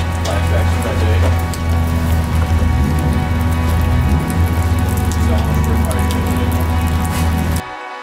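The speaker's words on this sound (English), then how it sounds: "it's very cold and very rainy today" Steady rain patters and hisses on surfaces without a break, loud and close, with a low engine-like drone underneath and brief voices before it cuts off near the end.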